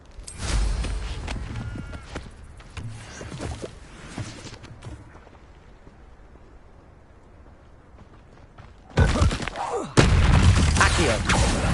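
Spell blasts from Confringo and Incendio in the Hogwarts Legacy video game: loud booming bursts and fiery crackles in separate clusters, with a quieter rumbling lull between them and a final strong volley.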